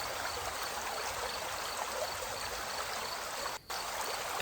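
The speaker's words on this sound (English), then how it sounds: "A soft breeze stirs the trees, causing the sound of rushing water to resonate through the air." Steady rushing water from a forest waterfall, a continuous broadband hiss with no break except a brief near-silent gap, alone without voices.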